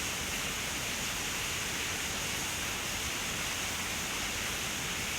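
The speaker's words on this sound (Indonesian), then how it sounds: "ASMR hujan." Steady rain ASMR hiss plays on a live stream, a dense, even wash of broadband noise holding constant throughout with no talk over it.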